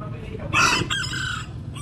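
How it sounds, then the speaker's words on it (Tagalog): A rooster crows once, loud and near, among a yard full of chickens, the bright cock-a-doodle-doo rising over faint background clucking. "Ang dami manok ito."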